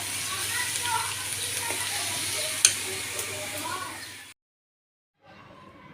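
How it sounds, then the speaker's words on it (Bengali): Lentils being tempered in hot oil and stirred give a steady, fairly soft sizzling hiss that cuts out briefly near the end before resuming. "এখানে ডাল চড়িয়ে দিয়েছি এখন ডালটা বাগার দেবো"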